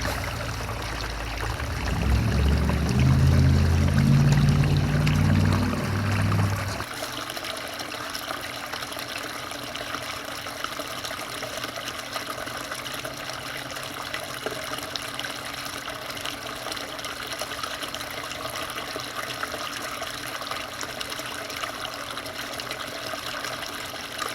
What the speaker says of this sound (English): giving it a few seconds to let the sluice do what it's doing